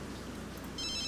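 Video game phone ringing in a tropical island life-simulation game, a faint electronic ring that starts partway through and continues to the end over a low background.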